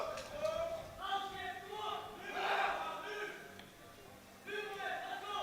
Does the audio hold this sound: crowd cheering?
yes